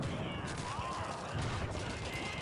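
Scattered rifle and gunfire crackle in a Call of Duty 2 World War II battle, faint and distant shots under a steady background din, with brief voice chatter.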